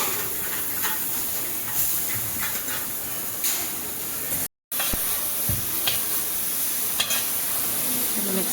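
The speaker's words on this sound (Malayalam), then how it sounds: "നമുക്ക് വേവിച്ച് വെച്ച സോയാ ചങ്ക്സ് ചേർക്കാം." Cooked soya chunks being stirred into hot ghee in a pan, a steady close sizzle and hiss with occasional spoon scrapes running throughout, briefly cut out for a moment midway.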